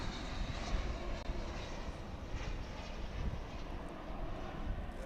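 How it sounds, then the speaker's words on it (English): A Volaris Airbus A320 arriving from Guadalajara at DFW at night gives a low, steady, moderately faint engine rumble with slight swells, alone without talk. "Coming to us from Guadalajara, it's an Airbus A320."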